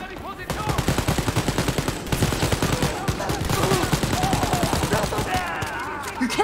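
Sustained automatic gunfire in the video game Wolfenstein: Youngblood, a rapid, steady stream of loud shots continuing throughout the whole stretch with few breaks.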